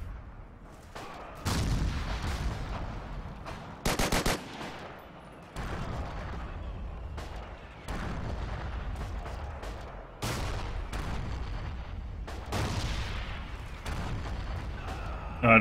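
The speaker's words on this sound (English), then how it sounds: "Somebody is trying to nade me here." Grenade blasts and gunfire in the World War II shooter Forgotten Hope 2, with repeated loud booms and bursts of shots, some rapid and clustered, scattered through the scene at varying distances.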